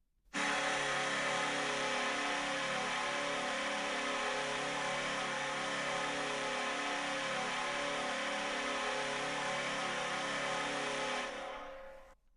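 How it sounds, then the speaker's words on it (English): An NHL arena goal horn, a multi-tone horn built from five horns, blares loud and sustained for about eleven seconds as one steady chord before cutting off, with no voices. "Now that is a good horn."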